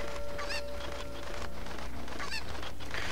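Several honking squawks from a cucco chicken in The Legend of Zelda: Ocarina of Time come in short bursts over a continuous bed of game music and ambience.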